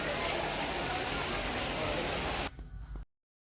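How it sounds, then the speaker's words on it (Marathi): Dense, heavy rain on Jotiba hill near Kolhapur hisses steadily and loudly, then abruptly drops away to near silence. "इतका पाऊस सुरू आहे तरी पण अजून लोक दर्शनासाठी तिथे थांबली होती"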